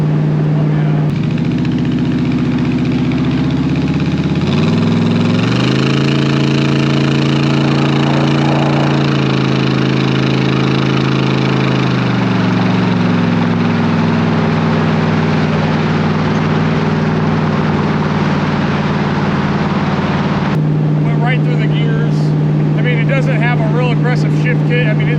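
A 365 hp small-block V8 drives a lightweight fiberglass 1966 Shelby Cobra replica, giving a steady, close, loud engine drone whose pitch climbs and then settles as the revs change, with what may be a gear change partway through.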